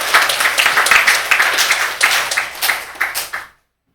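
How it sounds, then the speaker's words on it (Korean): A church congregation breaks into loud, steady applause during a Sunday service, dense clapping that continues for about three and a half seconds before stopping abruptly. "박수 한번 쳐드려."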